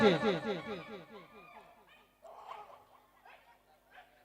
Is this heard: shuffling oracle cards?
no